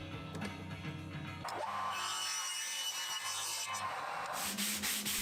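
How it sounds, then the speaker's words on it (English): Wooden drawer fronts sanded by hand with sandpaper, steady scratchy rubbing strokes close up, with a faint musical background at the start. "I paid special attention to sanding the edges to get them as smooth as possible, first using 100 grit and then 240"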